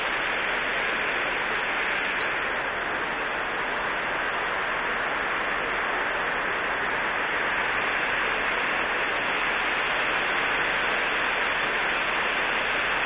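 Heavy rain pours down in a continuous, dense hiss that stays steady and loud throughout, with no voices.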